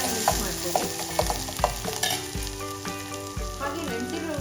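Soaked moong dal is stirred into a sizzling tempering of mustard seeds, curry leaves and ground green chillies for kosambari salad. Close, repeated scraping and clattering stir strokes sound over a steady frying hiss.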